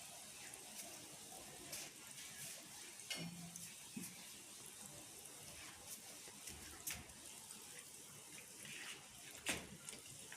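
Gaja dough fries in hot oil in a karai, giving a soft, steady sizzle and bubbling with a few faint clinks, quiet and continuous throughout.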